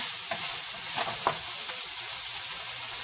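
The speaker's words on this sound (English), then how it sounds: "I like to get that seasoning mixed in there." Seasoning being stirred into a sizzling taco pasta casserole mixture in a pan, a steady hiss with a few soft spoon scrapes early on. There is no talking.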